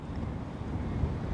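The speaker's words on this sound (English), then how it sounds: "that wind's picked right up again" Wind gusting across open water during a bass fishing trip with lures, a low steady rumble of microphone buffeting that stays faint and continuous, with no one talking.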